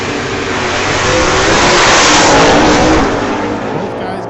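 Wheel-standing Ford Fairlane drag racing cars launching down the track at a sunset showdown race, a loud close engine roar swelling and fading over a few seconds.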